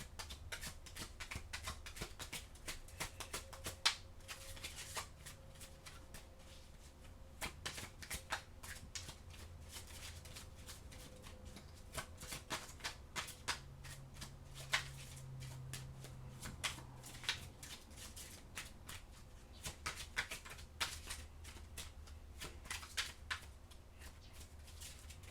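Oracle cards shuffled by hand in a steady, soft riffling and shuffling that runs the whole time, close and quiet, with no talking.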